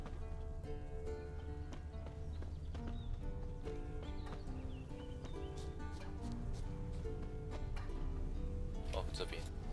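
Horse hooves clip-clopping at a steady pace while game music plays in The Witcher 3: Wild Hunt, with a horse whinnying briefly and a voice speaking over it.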